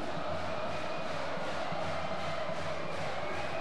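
Cruzeiro supporters shouting and chanting in a men's Superliga volleyball arena during a semifinal, a steady, dense crowd roar that fills the whole space without pause.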